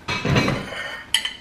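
A plate clinks in a home kitchen during cooking, one muffled knock followed by a brighter ringing clink near the end, close and brief.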